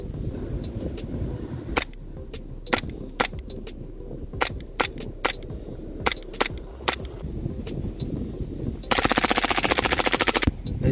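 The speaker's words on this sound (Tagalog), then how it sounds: "Tingnan natin kung ano yung magiging resulta pag binaril natin yung pakwan na yan gamit itong WE High Kappa Type K na full auto." WE Hi-Capa Type K airsoft pistol fires single shots at a watermelon rind, a series of sharp cracks spaced apart, then ends in a dense full-auto burst lasting nearly two seconds, with no talking.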